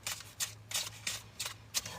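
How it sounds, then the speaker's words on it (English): Crisp rustling bursts of tarot cards being shuffled, six quick riffles in a steady rhythm, close and fairly quiet over a low hum. "We need 3 more shuffles"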